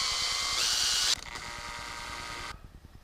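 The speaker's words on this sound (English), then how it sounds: "Drill and tap for an M3 screw." A small high-pitched electric drill whines loudly at close range, drilling a hole to tap for an M3 screw in a 1/14 scale model truck fifth wheel, its pitch dropping as it bites in, then winding down and stopping.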